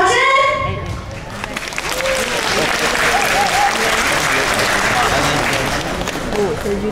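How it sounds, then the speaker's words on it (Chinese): Audience applause at a graduating class's instrumental performance, sustained clapping from a crowd of many hands, loud and steady, with voices audible over it at moments. "掌声。"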